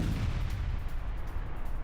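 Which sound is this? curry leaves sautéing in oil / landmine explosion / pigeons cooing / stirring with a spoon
landmine explosion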